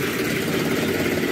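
A New Holland 3630 Special Edition tractor's diesel engine with a rotary pump idles steadily, giving a soft, even, continuous rumble close by with no talking.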